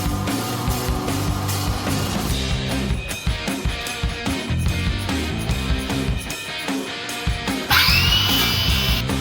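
A power tool cuts a leftover piece of wooden tabletop down to size in a workshop, loud continuous buzzing with rhythmic pulses and a sharp whining burst near the end, no speech.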